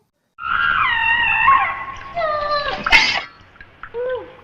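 A woman screams and wails in pain in a scene from the 1990 film Ju Dou, loud drawn-out cries with a sharp peak near the end, then a shorter moan.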